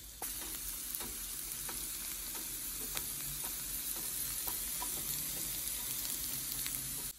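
Carrot and zucchini stir-frying in a pan for a salad, a steady close sizzle broken by intermittent scrapes and clacks of the stirring utensil throughout.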